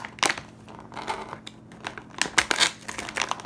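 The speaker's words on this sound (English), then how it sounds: "You need your scissors to open it." Scissors snip and crinkle through plastic packaging in a series of quick, irregular cuts and rustles, close and fairly quiet, without speech.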